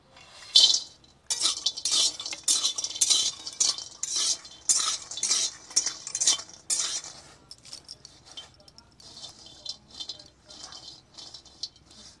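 Store-bought lentil dumplings (bori) being dry-roasted over low heat in an oil-free wok, a busy rattling scrape of a spatula stirring them, with lighter dry patter as the stirring eases.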